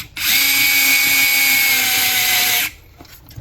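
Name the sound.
power drill driving a screw into RC car axle housing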